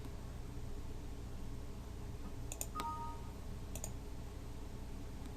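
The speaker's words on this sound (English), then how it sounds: "So I'm going to do that by clicking on these X's." A computer mouse clicks a few times during software setup, with sharp, faint clicks spaced apart over a steady background hiss.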